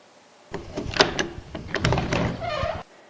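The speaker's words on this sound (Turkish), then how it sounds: "Bakalım kapı nasıl ses çıkarmıştı?" A door moves for about two seconds with close, clattering knocks, a scraping rattle and a squeaky creak near the end, heard alone with no speech.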